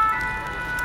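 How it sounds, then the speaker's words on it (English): A brief burst of steady, piercing police car siren tones, from many cars at once, fairly loud and continuous with no break, in France. "there's like 100 police cars with their sirens on heading that way."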